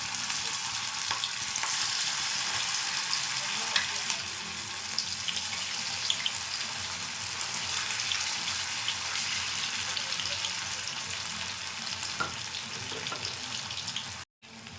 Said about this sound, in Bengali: একদম লো আছে আমি 5 মিনিট মতো উল্টে পাল্টে ভেজে নিয়েছি।